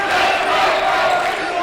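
Crowd noise fills a gym during a varsity boys basketball game between Frisch and Heschel, a loud steady roar of voices and cheering heard up close, with other voices mixed into it.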